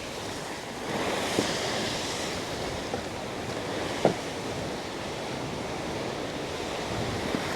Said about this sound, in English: Imagine doing yoga with these waves crashing in the background.